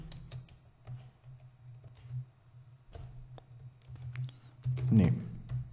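Computer keyboard keys tapped while writing C++ print code, a steady run of light clicks over a low hum, briefly louder near the end, with no speech.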